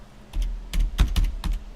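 Fingers tap a computer keyboard while typing a search, giving about eight to ten crisp, uneven keystrokes in quick clusters, close and clear with no talking.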